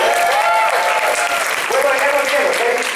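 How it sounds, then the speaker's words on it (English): Loud, sustained applause from an audience at an anime convention panel fills the whole stretch, with voices calling out over the clapping. "Round of applause for Tom."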